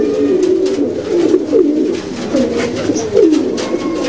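Pigeons coo repeatedly and up close in a breeders' loft, a series of loud, rolling, throaty calls following one another with brief pauses, with no talking.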